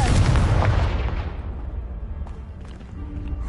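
A Confringo blasting curse explodes against a piled barricade in Hogwarts Legacy, a loud broadband boom that bursts at once and then rolls off into a decaying rumble with scattered debris ticks.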